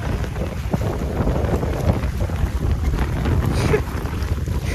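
Floodwater rushing through the village of Shri Kshetra Nrusinhawadi, a broad, steady roar of moving water buffeted by heavy wind noise on the microphone, continuous and loud throughout.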